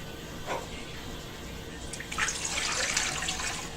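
Lukewarm water is poured for pizza dough, giving a steady close splashing stream that grows fuller toward the end.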